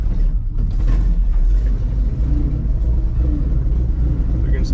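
A 1964 Chevy grain truck engine running and pulling off in second gear, a loud low rumbling idle and drive with mechanical clatter, while people talk over it.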